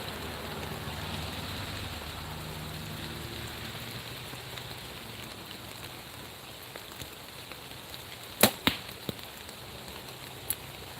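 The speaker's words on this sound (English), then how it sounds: "It's definitely getting wet and rainy now." Steady rain patters outdoors during an archery session, a constant soft hiss throughout, with a few sharp close knocks and clicks near the end.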